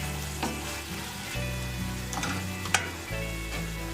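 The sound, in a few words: water added to sizzling chicken in a pan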